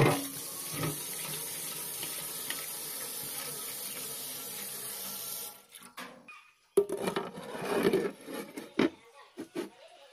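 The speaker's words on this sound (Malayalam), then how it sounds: "പത്തിരിയുടെ കല്ല് നല്ല കഴുകിയെടുക്കുന്നുണ്ട്." Stone griddle for pathiri being washed under a running kitchen tap, a steady close gush of water that cuts off midway, followed by scattered splashes, rubbing and knocks of the stone.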